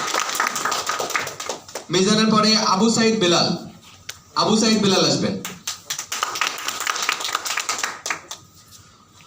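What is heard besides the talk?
audience clapping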